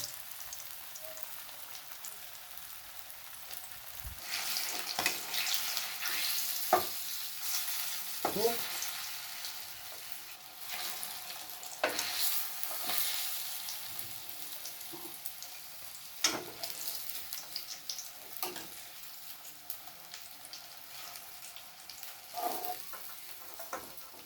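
Raw jackfruit kababs sizzling in hot oil, a continuous crackling fry with intermittent sharp pops and stirring scrapes, close and alone.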